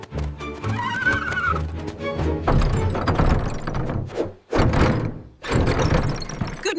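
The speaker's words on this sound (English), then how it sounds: "Inside the stable lives Max the horse." Max the horse whinnies inside a farm stable, a loud close neigh followed by clip-clopping hooves and heavy thunks, with several bursts of stamping and movement separated by short pauses.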